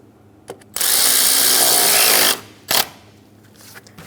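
A power tool whirs loudly and steadily for about a second and a half while snugging a hose clamp on the air intake of a 2014-2018 Chevrolet Silverado 1500 5.3L V8 engine, followed by a short clunk.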